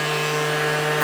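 A power sander works over laser-engraved coasters, giving a steady, even droning whir with a constant hum, close and unbroken for about a second.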